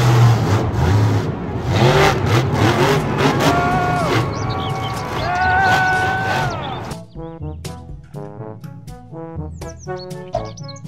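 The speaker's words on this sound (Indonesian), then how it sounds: "Mobil truk monster." A loud monster truck engine roars and revs for several seconds, pitch rising and falling, then gives way to bright chirpy tones and music-like notes.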